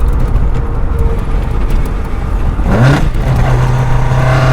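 A Toyota Starlet KP60 with a 4A-GE engine rumbles steadily, then surges into a louder, rising full-throttle rev under full load partway through, holding a strained high-revving drone to the end.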